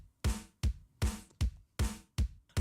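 Lato-lato clacker toy heavily squashed with OTT compression gives seven loud, sharp clacks in a steady rhythm, each with a boomy body and a hissy tail, close and alone without any talking.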